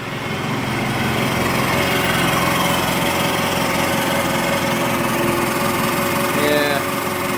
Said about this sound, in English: I think I've outgrown that little tiny blower.